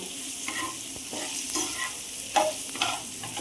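Bitter gourd chutney sautéed in a pan makes a low sizzle under repeated scraping and clinking strokes of a spoon stirring, close and fairly quiet, with no speech.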